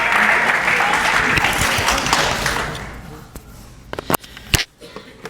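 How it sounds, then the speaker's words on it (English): An audience at a Florida political event bursts into loud, dense applause after a musical performance; the clapping holds steady for about three seconds, then thins out to a few scattered claps and taps. "Can we give him one more round of applause,"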